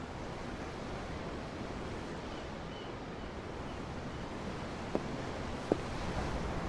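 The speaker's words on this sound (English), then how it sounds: "The ocean? Yeah. The waves." Ocean waves in the video game Tales of Arise, a steady, soft, wind-like wash of surf rolling on without pause, with two faint clicks near the end.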